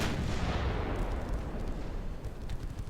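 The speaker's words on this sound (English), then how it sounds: "3-inch guns, though." Naval gunfire in the warship game Ultimate Admiral, with 3-inch guns booming in a heavy, loud blast that rolls into a decaying rumble and faint follow-up reports.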